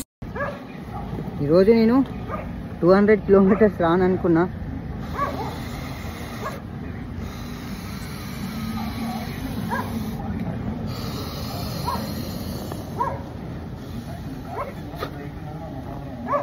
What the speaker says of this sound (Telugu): బయట కుక్కలు అరుస్తున్నాయి